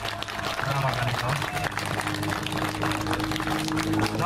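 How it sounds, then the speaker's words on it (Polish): Applause for the mayor at an outdoor community event in Nieznanowice, a steady crowd clapping that continues throughout, with a voice speaking over it. "Brawa dla niego"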